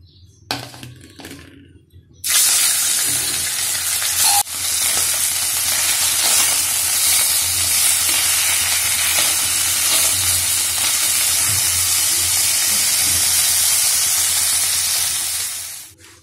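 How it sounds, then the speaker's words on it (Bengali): Parshe fish rubbed with salt and turmeric hitting hot oil: after a few quiet clinks, a loud, dense frying sizzle bursts in and roars steadily for over ten seconds before easing off, no talking. "নুন হলুদ মাখিয়ে মাছগুলো আগে ভালো করে ভেজে নেব।"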